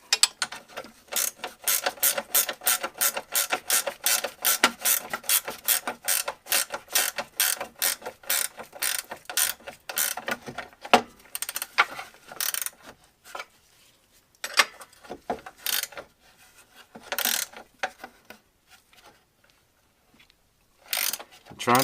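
Ratchet wrench tightening a bolt on the front A-arm of a 2006 Polaris Sportsman 700 ATV, a long run of steady rapid clicks followed by shorter, scattered bursts of ratcheting, close and clear.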